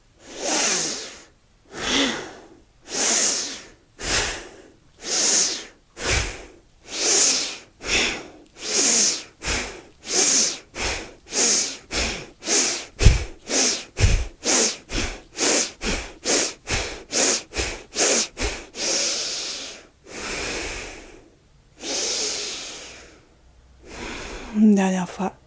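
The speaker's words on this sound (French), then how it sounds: "inspire par le nez. Expire bouche ouverte." Rhythmic yoga breathing, in through the nose and out through an open mouth, forms a long series of close, loud breaths, about two dozen evenly paced whooshes that quicken in the middle, with a few short spoken cues in between.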